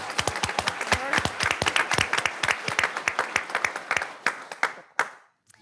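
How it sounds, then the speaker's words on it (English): Dense applause from an audience at a school board meeting, many hands clapping briskly and steadily, then thinning out to a few last claps before falling silent. "So round of applause."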